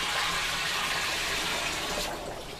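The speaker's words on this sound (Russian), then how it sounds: "Просто обычная вода из-под крана." Ordinary tap water runs steadily from a faucet as a continuous, fairly loud broadband rush, easing off slightly toward the end, with no voices.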